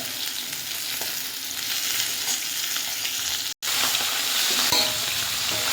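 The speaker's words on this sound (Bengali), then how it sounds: "আর দু পিসাকে এগুলোকেও ভেজে নিচ্ছি" Steady, loud sizzling of pomfret fish pieces frying in hot oil, close up, with a brief cut in the middle and no voices.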